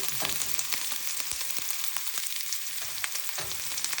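Onion and ginger fry in a hot pan for a Kerala moru curry, a bright steady sizzle with occasional crackles and pops, close and fairly loud with no talking.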